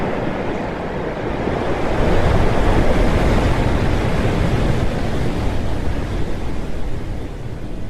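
Steady surf of the Red Sea, loud and close, a continuous broad wash of breaking waves with some wind buffeting, no voices.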